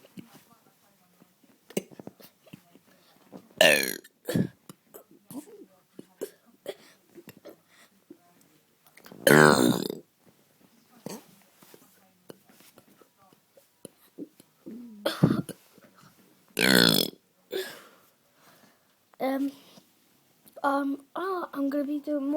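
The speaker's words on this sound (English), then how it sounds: "But here are some burps." A 7-year-old child burps several times, loud short rough bursts spaced irregularly through the passage, with quieter talking and small noises between them.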